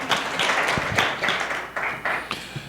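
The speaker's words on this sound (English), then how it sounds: "They're going to clap for you, I have a feeling." A small audience claps for a group during a meeting, a brief scattering of light, uneven hand claps at close range.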